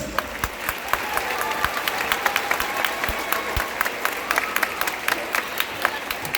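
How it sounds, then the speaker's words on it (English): An audience at a sixth grade spring band concert applauds the young players, with loud, sustained clapping crowded with sharp individual claps, and a few voices mixed in. "let's give a big round of applause for our kiddos"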